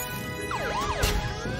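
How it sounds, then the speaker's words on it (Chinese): A cartoon robot truck's siren wails in rising and falling sweeping tones, loud and close, with a brief burst of noise in the middle. "还有警笛。"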